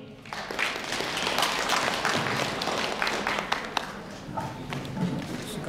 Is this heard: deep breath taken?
no